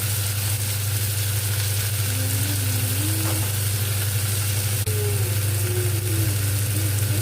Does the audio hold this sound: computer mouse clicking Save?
no